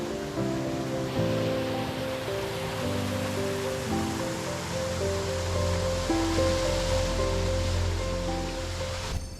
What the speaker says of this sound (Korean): 역시 겨울에도 장관인 내연산의 12폭포를 만나봤는데요